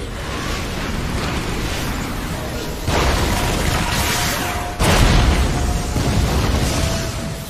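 Booming explosions in an anime battle, a continuous roaring rumble that surges louder twice with sudden new blasts, close and alone without voices.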